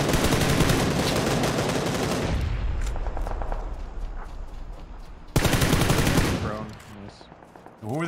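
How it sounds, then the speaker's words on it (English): Rapid automatic gunfire from a battle royale video game fills the first seconds, dies back to sparse shots and ambient game noise, then a second loud burst erupts near the end, with quiet talk underneath. "Who are they shooting at, though?"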